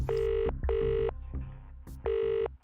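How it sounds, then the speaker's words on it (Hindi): Outgoing phone call ringing back in the earpiece, three evenly spaced electronic ring bursts with short gaps between them, close and clear with no talk. "आई होप वो मेरा फोन पिक कर ले बस।"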